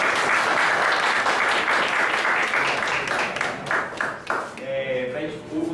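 Audience applause at a ceremony installing a university truth commission in Campina Grande, dense steady clapping throughout that thins toward the end as a voice begins speaking over it.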